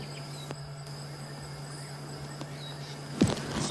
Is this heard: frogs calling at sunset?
yes